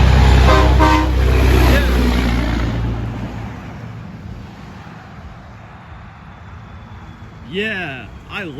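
A big truck roars loudly past up close with wind noise, then fades away. Toward the end it gives a couple of short horn toots, and voices talk over it.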